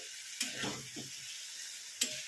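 Ginger, onion and tomato sautéing in a hot pan for soybean kosha give a steady, moderately loud sizzle, punctuated twice by sharp scrapes of a spoon against the pan.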